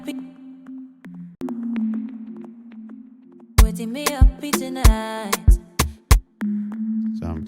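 A synth preset from the Hive plugin in FL Studio plays a simple melody. Sustained humming tones give way to a run of sharp, plucky repeated notes, then the held tone returns.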